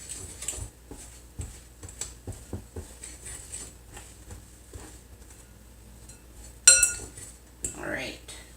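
A utensil clinks and taps against a bowl while homemade two-ingredient bagel dough is mixed, a series of uneven knocks and scrapes with a louder clatter near the end and a voice talking between them.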